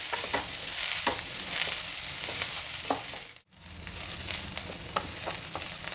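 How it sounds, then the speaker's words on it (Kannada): Sliced onions sizzle steadily in a pan on the stove for an onion gojju, a continuous close frying hiss with occasional stirring scrapes and one brief lull partway through. "ಈರುಳ್ಳಿ ಚೆನ್ನಾಗಿ ಫ್ರೈ ಆಗ್ತಾಯಿದೆ."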